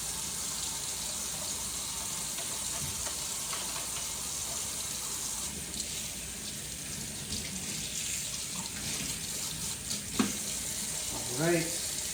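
Tap water runs steadily into a kitchen sink while a dish is rinsed under it, a continuous close hiss with small clinks and splashes toward the end.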